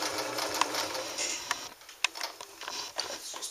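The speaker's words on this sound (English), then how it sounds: "What a beautiful balanced stitch this machine makes." A Belvedere Japanese featherweight sewing machine stitches at a slow, even pace, giving a close mechanical whir with rhythmic ticking clicks of needle and gears, then a quieter clicking stretch.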